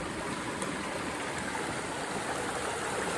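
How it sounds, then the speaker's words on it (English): A small stream flows off the Gallatin River in Montana, a steady, close rushing and burbling of water that continues evenly with no voices. "It's a little stream coming off the Gallatin River."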